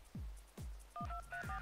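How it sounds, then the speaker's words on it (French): A telephone in the Party Hard video game sounds off with repeated low thumping pulses, about four evenly spaced, joined by short beeping dial tones in the second half. "il y a un téléphone là, je l'avais même pas vu"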